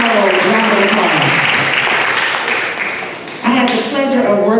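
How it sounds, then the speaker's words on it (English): An audience at a school induction ceremony claps loudly and steadily, a dense wash of applause from a crowded hall with some voices mixed in. "Round of applause."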